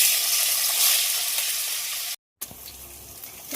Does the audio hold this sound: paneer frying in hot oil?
yes